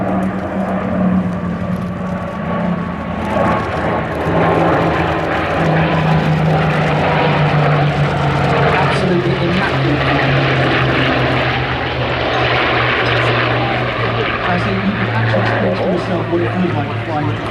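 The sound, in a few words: WWII fighter aircraft flypast: Thunderbolt, Spitfire, P-51 Mustang, Buchon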